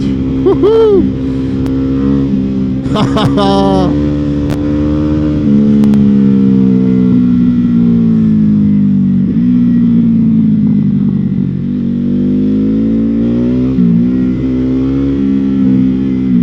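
A Ducati Hypermotard 950 motorcycle engine on a test ride roars loudly and close, holding a steady drone as the revs rise and fall, with a brief sharp rev burst near the start.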